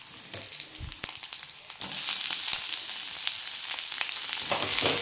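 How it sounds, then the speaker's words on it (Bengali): Capsicum, onion, garlic and chili flakes fry on a high flame, a soft crackle that swells into a loud, steady sizzle after a couple of seconds, with scattered pops and no voices. "হাই ফ্লেমে এটাকে ফ্রাই করতে হবে, যাতে ক্রাঞ্চি ভাবটা থাকে, বেশি ফ্রাই যেন না হয়ে যায়"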